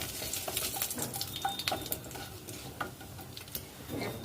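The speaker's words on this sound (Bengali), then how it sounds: "দুটো তেজপাতা ফোড়নে দিলাম।" Two bay leaves tempering in hot oil give a steady, fairly quiet sizzle and crackle with light scraping, heard alone for a few seconds.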